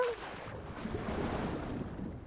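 A jet ski skims across open water in Far Cry 6, its engine drone and splashing spray running steadily over wind noise for the whole stretch, with no talk.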